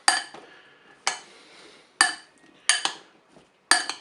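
A spoon clinks and scrapes against a bowl as potatoes are tossed with oil, oregano and salt, giving five sharp, bright metallic knocks spaced about a second apart with brief rattles in between.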